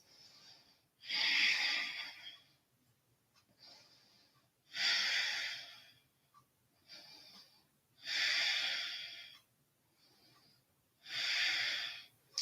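Breathing while holding an exercise pose: four slow, deep breaths, each a loud, airy hiss through the nose or mouth lasting a second or two, with quiet pauses between them.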